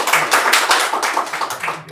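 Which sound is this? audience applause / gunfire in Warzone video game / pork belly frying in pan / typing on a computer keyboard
audience applause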